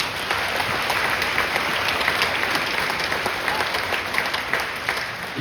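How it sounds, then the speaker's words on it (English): Dense, sustained applause from a concert audience after a school all-district concert band performance, a loud continuous wash of clapping lasting throughout. "Give yourselves a round of applause."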